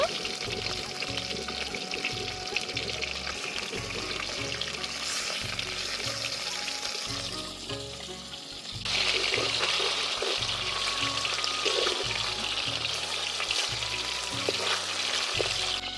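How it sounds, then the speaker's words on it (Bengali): Fish sizzles in hot oil in a wok, a continuous frying hiss that grows louder midway. Someone talks over it throughout. "কড়ার মধ্যে মাছটা তুলে দেব, দিয়ে মাছটা ভেজে নেব"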